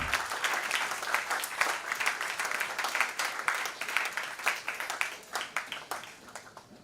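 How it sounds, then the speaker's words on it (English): A conference audience gives a round of applause: dense clapping that rises, holds steady, then thins into scattered claps as it fades. "Please join me in welcoming him with a round of applause."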